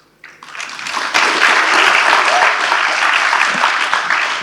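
Sustained audience applause at a Web3 conference panel in Goa, India, rising quickly after a brief quiet start and holding a dense, steady clatter of many hands throughout.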